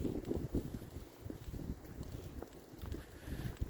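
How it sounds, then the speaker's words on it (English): Cold outdoor wind buffets a microphone with low, uneven rumbling gusts that swell and fade over a few seconds, close and fairly quiet. "oh boy, there's the wind"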